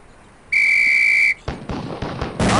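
A sharp, steady whistle signal sounds once for under a second in the Police Quest: SWAT training range game, followed by a rapid series of loud gunshot bangs.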